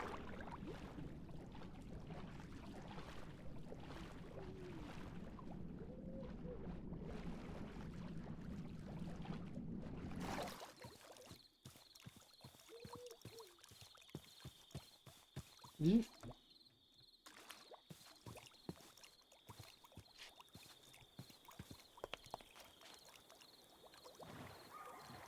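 Water splashing and sloshing as a character swims through a cold river in the survival game Au Naturel, steady close watery churning with small bursts and one sharp splash midway, after a stretch of quieter ambience.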